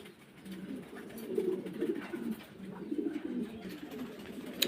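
A pair of Mundian pigeons coos softly and repeatedly in a loft, the low burbling calls rising and falling over steady background noise.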